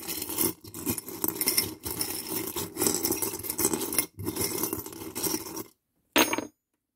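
Small divination charms shuffled and rattled by hand in a continuous close clinking jangle, a few quick pauses along the way, then it stops and one brief final shake follows after a moment of silence.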